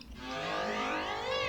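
A sound run through Ableton Resonators rings with sustained metallic tones and sweeping, shimmering overtones, steady and moderately loud with no voices.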